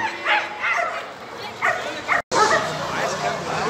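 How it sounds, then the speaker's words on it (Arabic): A German shepherd puppy at an outdoor dog market gives a string of short, high yips and whimpering barks close by, with a brief break midway and market chatter in the background. "جرو جيرمان اهو"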